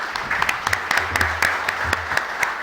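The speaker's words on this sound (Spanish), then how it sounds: "Le damos un fuerte aplauso a todos nuestros panelistas." Scattered applause from a panel-discussion audience on a change to a law, with distinct separate hand claps popping out over a lighter bed of clapping and a low hum.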